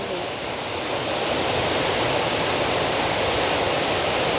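Water sprays and rushes from a village tank opened at night, a steady, loud broadband roar like a waterfall that fills the whole stretch without a break.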